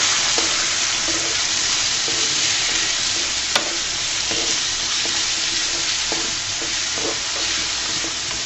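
Flat beans and potatoes frying in hot oil in a pan with browned onion and garlic, a loud, steady close sizzle with occasional light stirring clinks and pops throughout.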